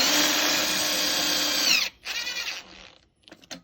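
A power screwdriver drives screws while a D&D Lokk Latch Deluxe lock is installed, whining loudly and steadily for about two seconds, then giving a shorter, slowing burst and a few brief final pulses.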